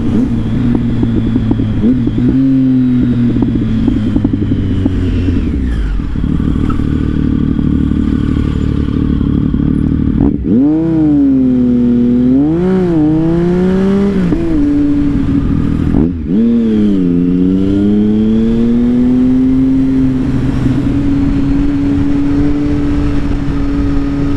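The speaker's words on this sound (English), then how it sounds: "Splitting lanes like that on this bike doesn't feel good." A motorcycle splitting lanes through city traffic, its engine loud and close throughout, with repeated rising and falling revs as the rider accelerates and eases off between cars.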